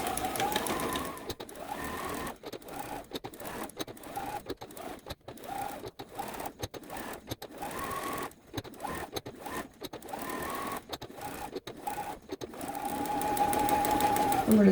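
Sewing machine stitching quilt block pieces with flower, curve and straight shapes, running in quick bursts separated by short pauses, then a steadier, louder run at the end; close and clear with no talk.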